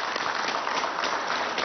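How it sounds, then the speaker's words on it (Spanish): Applause from an audience at a Venezuelan presidential event, a dense, steady crackle of many hands clapping that carries evenly through the short stretch with no voices standing out. "Un aplauso a esta juventud."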